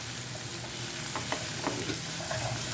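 Shallots frying in a pan give a steady, soft sizzle with a few light stirring scrapes, fairly quiet and without voices.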